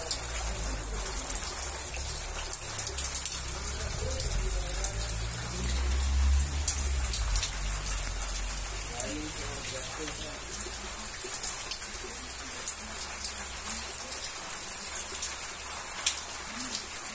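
Steady rain patters on surfaces in a constant hiss, with someone talking quietly now and then underneath.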